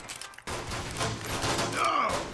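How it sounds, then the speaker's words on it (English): A pulse grenade bursts in Fallout, a sharp crack at about half a second giving way to a sustained crackling electrical wash with a rising whine near the end, heard up close amid game noise. "Pulse grenade, do your work."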